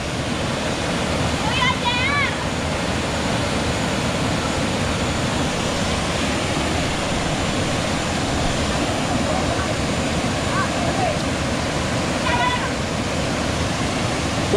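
Aurora Falls roars as a steady, broadband rush of falling water, loud and close throughout, with a few brief voices faintly audible over it.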